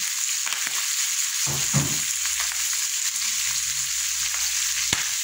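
Kare-kare ingredients with string beans sautéing in a hot pan, a steady close sizzle with a few scraping stirs, no talking.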